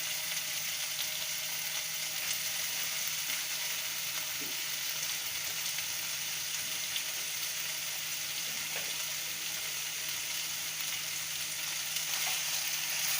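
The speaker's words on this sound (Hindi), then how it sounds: "अब इसको थोड़ा फ्राई करना है, थोड़ा सूख जाए जब तक फ्राई करना है।" A capsicum rice mixture with vinegar frying in a pan, giving a steady dense sizzle that hisses without a break for the whole stretch, close and even, with only faint stray clinks.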